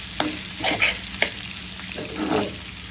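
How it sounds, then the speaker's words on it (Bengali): Papaya bhaji stir-frying in a pan without water, with a soft, steady sizzle broken by distinct spatula strokes scraping through the vegetables, close up and with no talk. "কোনো পানি দিইনি, শুধু ভাজা ভাজা হচ্ছে।"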